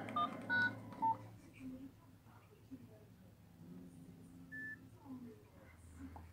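Nokia 5130 mobile phone keypad beeps as a balance-check number is dialed, a few short bright tones early on, fairly faint against a quiet room with soft low rumble.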